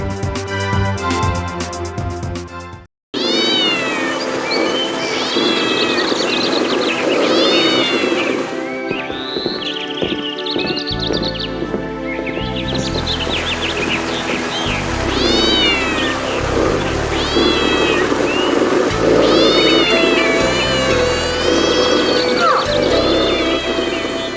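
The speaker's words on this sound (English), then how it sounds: "Lucky cat. If the other boys hadn't come, she would have lost the fight." Cartoon cat fighting a big dog, with loud drawn-out yowls, meows and snarling caterwauls layered over music and effects, continuous and close for the whole stretch.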